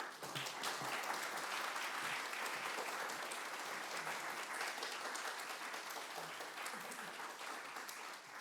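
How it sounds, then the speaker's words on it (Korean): A church congregation applauds to welcome a missionary at a Sunday worship service, a steady, dense wash of clapping that holds evenly for several seconds and fades slightly at the end. "선교사님 나오실 때 환영의 박수로 맞이하겠습니다"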